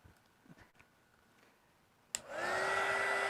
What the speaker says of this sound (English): heat it up just a little bit. Enough just to soften the resin.